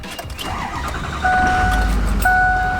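A Ford Excursion Limited with a Power Stroke diesel cranks and starts, a short starter whir followed by the engine catching into a steady, louder running rumble.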